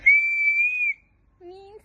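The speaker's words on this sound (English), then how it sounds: "as for your safety, I'll be using this whistle" A handheld safety whistle sounds one long, loud, steady blast of about a second. A softer, lower whistle tone follows briefly after a short silence.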